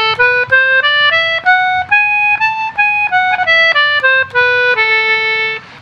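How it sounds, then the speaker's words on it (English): Ascending and descending A melodic minor scale played on a bright free-reed instrument, each note distinct and sustained in a steady stepwise run, close and unaccompanied. "And then there's A melodic minor"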